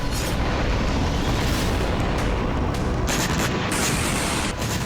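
Continuous heavy rumbling roar with dense crackling noise throughout, like explosions and distant blasts blending together, from explosions in a war-torn city in Ukraine.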